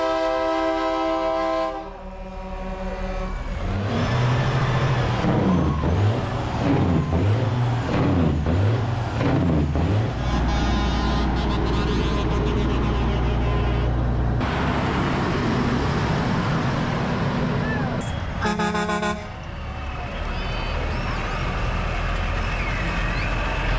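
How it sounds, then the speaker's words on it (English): A 1923 Kenworth truck leads a truck parade in Chillicothe, with more trucks following. Loud blaring horn blasts, deep rumbling engines and hissing air brakes run continuously for over twenty seconds, close by and without speech. "the 1923 Kenworth truck leading the parade"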